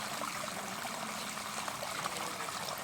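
Water poured out at a resort in Dharwad to flush a roughly three-foot spectacled cobra from its hiding spot runs in a soft, continuous trickle, faint and steady, with no voices.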